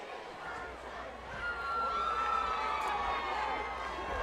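Football stadium crowd at a high school game, Bishop McDevitt against Susquehanna Township, roars after a missed 30-yard field goal, a broad, distant swell of cheering and shouting that builds and holds with a whistle cutting through.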